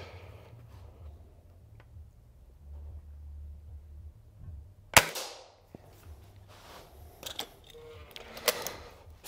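A single air rifle shot fired at a target 20 yards away, one sharp close crack standing out from a quiet background, followed by faint rustling and small clicks.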